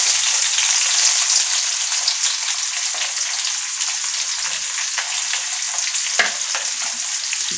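Two thinly sliced onions hit hot oil and fry with a loud, close, steady sizzling hiss that fades slightly over time, with a brief stirring knock near the end and no speech.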